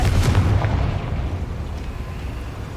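A Confringo fire spell blast in the game Hogwarts Legacy bursts out as a loud, booming explosion with a low rumbling impact that fades steadily over a few seconds, with no talking.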